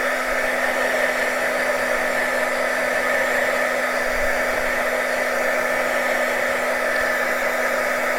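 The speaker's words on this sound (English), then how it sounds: "Where did my heat gun go?" Heat gun blowing on freshly dyed lace, a steady, loud whirring hum with an even airy rush and a constant motor tone, unbroken and alone throughout.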